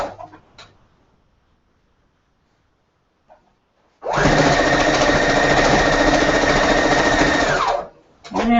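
A sewing machine runs steadily for about four seconds, stitching quilt seams on a disappearing pinwheel quilt, loud and continuous before stopping, with brief quiet talk at the start and end.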